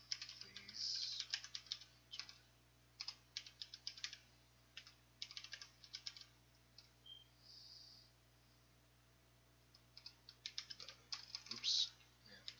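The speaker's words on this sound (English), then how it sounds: "Oops, man, typing too fast." Rapid typing on a computer keyboard produces quiet, dense bursts of clicking keystrokes in irregular runs with short pauses, heard up close over a faint background hum.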